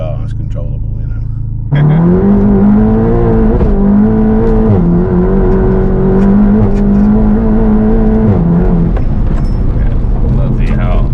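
A 520bhp Volkswagen Golf GTI Clubsport accelerates hard along a bumpy road, its engine note rising in a loud, close, sustained roar with shifting pitch after a quieter opening second, while someone talks over it.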